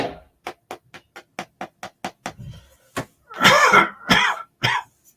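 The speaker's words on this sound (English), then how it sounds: "That little cough that doesn't go away." A rapid run of short, sharp coughs in an even rhythm, followed by a few heavier, rougher coughs and a throat-clearing sound, close to the mic.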